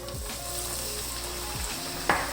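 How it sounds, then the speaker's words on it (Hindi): A poori drops into hot oil for deep frying, and a steady bright sizzle holds close and constant, with a couple of soft low thuds and a sharp clink near the end. "अब पूड़ी को बहुत एहतियात के साथ में इसके अंदर डाल दूँगी"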